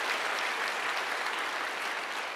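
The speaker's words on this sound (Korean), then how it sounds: "하나님께 감사와 영광의 박수 올려드리겠습니다" Congregation applauding during a New Year's Eve church worship service, steady dense clapping throughout at moderate level with no voices.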